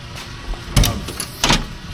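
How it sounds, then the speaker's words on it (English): A camper shell's side door on a Ford Ranger Raptor is opened, with two short clunking bursts of a latch and the door moving, close and fairly loud, and no talking. "If you want to go ahead and open that side door real quick"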